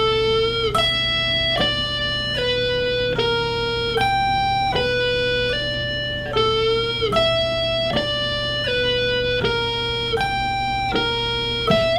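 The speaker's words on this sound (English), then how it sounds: "Now if you wanted to make it sound a little bit bluesier, what you could do is do a small bend with that second finger." A clean electric rock guitar repeats a hybrid-picked lick with a small second-finger bend that makes one note slide slightly upward in pitch each cycle, a steady slow pattern of plucked notes over a low hum, without talking.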